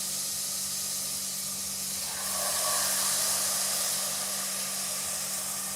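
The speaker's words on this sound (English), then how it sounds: "We will go ahead and add the tomatoes." Diced tomatoes hit a hot pan of tender mushrooms and garlic with a steady sizzling hiss that swells sharply partway through, then settles into a constant sputter.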